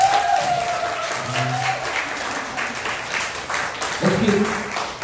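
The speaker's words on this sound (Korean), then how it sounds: "다시 한번 저기 우리 팔구부부한테 박수 한번 보내주세요." Audience at a live Korean pumba performance applauds loudly and continuously, with a host's voice speaking over the clapping near the start and again toward the end.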